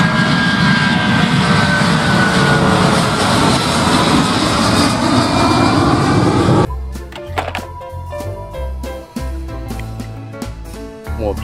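Steady roar of an airplane engine close by, loud and continuous for several seconds before cutting abruptly to other clattering, tonal sounds.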